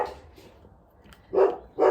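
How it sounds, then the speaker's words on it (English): A dog barks twice in quick succession near the end, loud and fairly close, chasing a blackbird in a garden, after a moment of quieter background sound. "He's chasing a blackbird, is the dog. I'm sorry for the noise."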